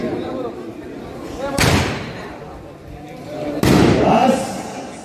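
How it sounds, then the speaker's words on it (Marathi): A cannon salute is fired at an outdoor wrestling ground to open the first bout: two loud, sharp booms a couple of seconds apart, each followed by a rolling decay over background crowd noise. "तोफेची सलामी झाली."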